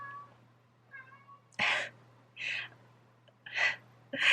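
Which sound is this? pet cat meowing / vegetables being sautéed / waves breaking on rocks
pet cat meowing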